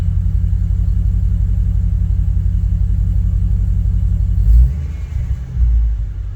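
A Dodge Challenger R/T engine idles in a steady, loud, close low rumble while running hot, with a brief deeper surge near the end.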